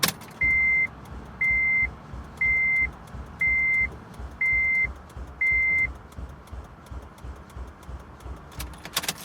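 An 8th-generation Honda Civic Si idles with a low, steady rumble just after a jumpstart, under six evenly spaced electronic chime beeps that then stop.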